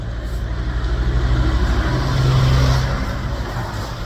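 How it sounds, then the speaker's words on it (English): A truck passing on a road during a humid-weather run, its engine rumble swelling to a loud peak at mid-pass before easing off, heavy low drone throughout with no talking. "There's a truck coming."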